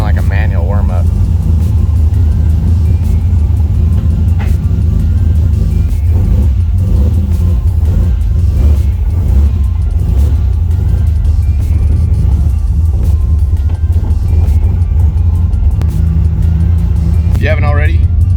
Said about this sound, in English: There's no idle control valve either, so kind of like a manual warm-up.